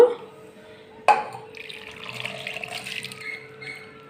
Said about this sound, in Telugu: ఇంకా కొన్ని నీళ్లు పోసుకుని కుక్కర్ పెడుతున్నాను